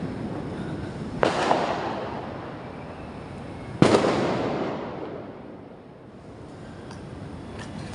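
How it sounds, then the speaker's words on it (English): Diwali fireworks bursting across a city of 20 million, with two sharp, loud bangs standing out over a continuous rumble of distant crackling and popping. "A city of 20 million people all letting go their fireworks."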